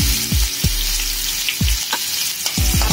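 Chopped green chili, ginger and garlic hit hot oil in a pan over high flame, giving a loud close sizzle with repeated sharp spoon scrapes and clatters against the metal.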